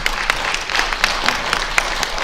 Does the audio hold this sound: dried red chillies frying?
no